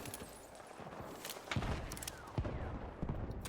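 Gunshots from a sniper rifle in Battlefield 6 crack out in a few sharp reports at roughly one-second intervals, set against a constant bed of battlefield ambience and distant action.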